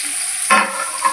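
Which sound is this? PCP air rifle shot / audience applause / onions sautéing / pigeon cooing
onions sautéing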